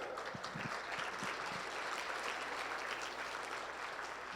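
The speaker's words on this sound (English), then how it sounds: "if you notice that the applause started all at the Alumni of Distinction past winners table started that applause" Audience applause at an alumni of distinction awards ceremony, steady and fairly quiet, heard from a distance with no talk over it.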